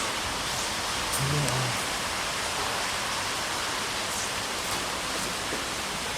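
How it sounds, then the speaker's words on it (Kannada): Heavy rain pouring down during a storm after thunder, a dense, even roar of broadband hiss that stays loud and constant throughout, with faint voices briefly underneath. "ಹಾಗೆ ಮಳೆ ಜಾಸ್ತಿ ಉಂಟು"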